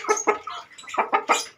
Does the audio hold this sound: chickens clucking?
yes